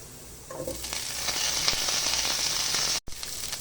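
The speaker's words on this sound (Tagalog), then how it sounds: "gisa muna natin yung bawang. Lagyan natin yung sibuyas" Garlic and onion sautéing in a hot pan while cooking chicken sinampalukan, a steady close sizzle and crackle of frying that swells after a soft start, with a brief cutout near the end.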